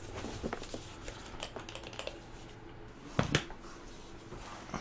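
New HTC Vive VR controller buttons click in sharp, close, scattered taps during unboxing, with a couple of louder clicks near the end and quiet room noise between.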